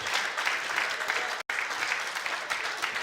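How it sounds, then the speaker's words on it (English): A live crowd at a bar and restaurant inside the Harley-Davidson Museum gives a steady, full round of applause for about three seconds, with a brief cut in the middle. "let's give a big round of applause for Nigel and Ian for being up here with me today"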